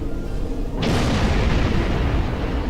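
A deep explosion booms in the Star Trek Online space game, a sudden onset swelling into a sustained, rumbling roar that fills the rest of the moment, with no voices.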